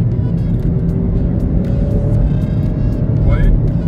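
A Kia Rio III's naturally aspirated 1.4 litre four-cylinder engine pulls steadily at close range, a continuous low drone with a faint rising whine near the end, and a voice talks over it.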